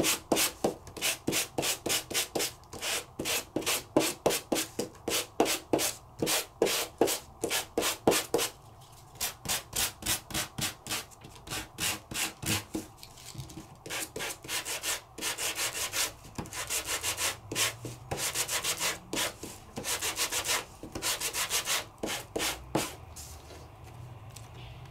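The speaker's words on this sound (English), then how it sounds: "Sand." Steady rhythmic sanding strokes rubbing back and forth on a surface while crafting, fast regular passes that pause briefly and resume, close and loud throughout with no speech.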